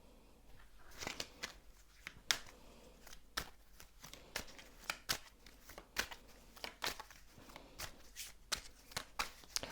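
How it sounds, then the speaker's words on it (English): Tarot cards are shuffled by hand in quick, crisp bursts of riffling and slapping, close up and fairly quiet, repeating irregularly with short gaps between strokes. "I'm gonna shuffle a little bit more"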